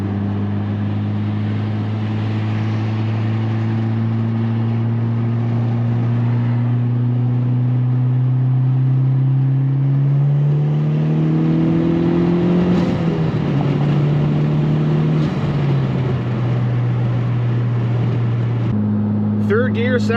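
A turbocharged car accelerating through the gears with the window cracked, steady rising engine drone and loud inlet pipe whoosh, a shift midway, close and dominant from inside the cabin.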